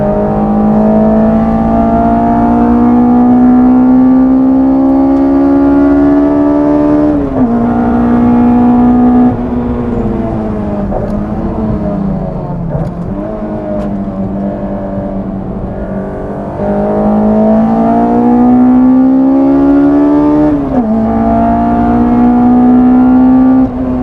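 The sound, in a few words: Honda S2000 with ITBs revving high on track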